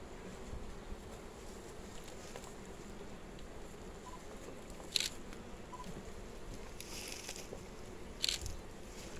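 A faint, steady hum of many honeybees buzzing close by at an opened hive, broken by two brief crackling clicks.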